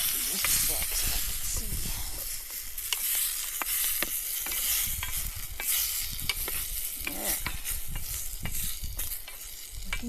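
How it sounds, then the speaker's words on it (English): Stew being stirred in a hot pot over a campfire outdoors, with steady frying sizzle and hiss under repeated scraping strokes of the spoon throughout, close and fairly loud. "Give this one more stir."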